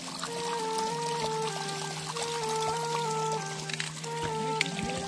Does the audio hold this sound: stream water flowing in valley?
yes